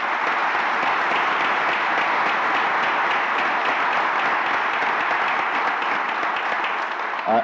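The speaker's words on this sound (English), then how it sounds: "one more round of applause for our new inductees" Audience at the 2015 Lincoln Academy of Illinois convocation applauding the new inductees and laureates, a sustained, even roar of many hands clapping in a large hall, continuing unbroken for several seconds.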